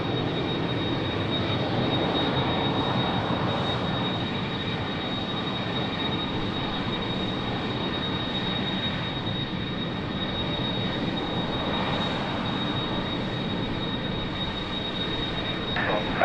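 Ryanair Boeing 737 jet at Lisbon Airport, a steady, sustained engine roar heard at moderate distance with no speech.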